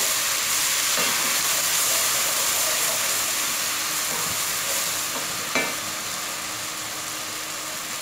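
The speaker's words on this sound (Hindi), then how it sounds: "इसको आपने 30 से 40 सेकंड फ्राई कर लेना है लहसुन अदरक को" Garlic and ginger paste fries in a pan for a beef masala pulao, giving a steady, loud, even sizzle throughout with a brief stir or clink near the end.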